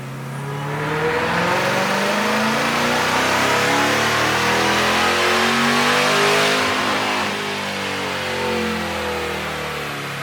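A camshaft-equipped Dodge Hellcat V8 revs on a chassis dyno, climbing steadily in pitch through a long sustained pull, loud and close, then holding near the top before easing slightly, with no talk.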